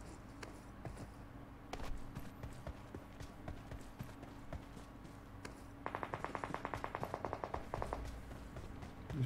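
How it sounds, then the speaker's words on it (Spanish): Gunfire in the PUBG Mobile battle-royale game: after a stretch of quiet game ambience, a rapid burst of evenly spaced automatic shots rattles off for a couple of seconds, moderately loud. "Disparos por ahí"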